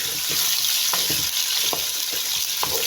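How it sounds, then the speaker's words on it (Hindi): Potatoes fry in oil with cumin and garlic, giving a loud, dense, continuous sizzle with a few spoon scrapes and taps from stirring; no one talks. "we gonna add potato and then we fry potatoes"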